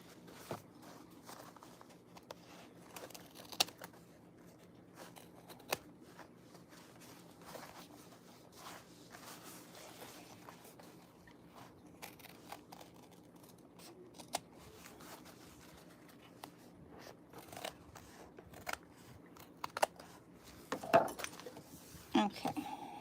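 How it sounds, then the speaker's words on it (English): Scissors trimming the corners of fabric while sewing a bookish hydro pouch, faint scattered snips and small handling clicks over a quiet room, louder cuts clustering near the end. "I might trim down some of these corners a little bit."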